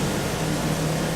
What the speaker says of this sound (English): it just has a cycle now through the pump